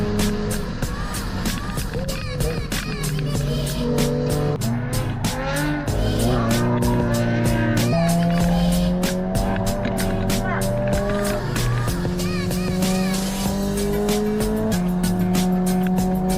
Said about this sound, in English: There's a GR86 slamming the curbing and dragging a tire in the gravel there at the exit of 6.